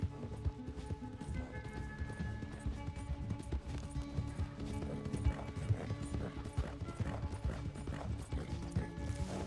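Steady clip-clop of horse hooves running in the video game Red Dead Redemption 2 alongside a busy musical backdrop, with an occasional whinny, continuous and fairly loud throughout.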